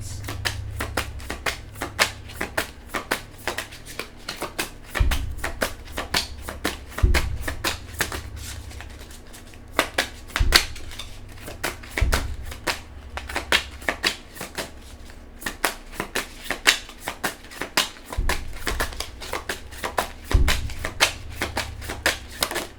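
A deck of tarot cards is shuffled by hand close by, with a crisp, continuous riffling flutter broken by a soft thump of the deck every few seconds, and no talking.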